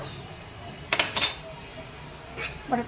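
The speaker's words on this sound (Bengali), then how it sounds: "দিয়ে একটু ভালো করে নাড়াচাড়া করে নেবো" A metal spoon scraping and clinking against a pan while spice paste is stirred into fried prawns, a few short knocks and scrapes over a quiet background with a faint voice.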